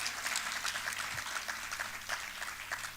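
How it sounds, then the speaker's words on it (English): A crowd applauding steadily, a dense patter of clapping that holds at moderate loudness for the whole stretch. "come give him that clap as he walks here"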